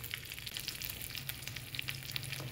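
Ground spices, ginger paste, coriander powder and cumin powder, sizzle and crackle steadily in a hot pan, a dense close hiss with small pops throughout and no voices.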